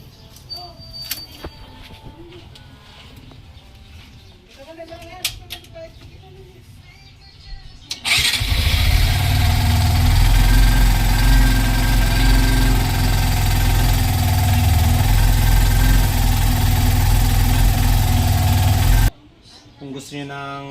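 Barako 3 motorcycle engine bursts into life and runs at a steady, loud, close idle for about eleven seconds before cutting off abruptly, with talk and handling noise before and after.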